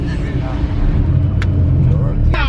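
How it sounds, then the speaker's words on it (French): Steady low rumble of a bus engine from inside the cabin, continuous and fairly loud, with brief clicks and rattles and faint voices of passengers underneath, on the road to the Great Wall near Beijing. "on est dans le bus pour aller direction Moutiagno"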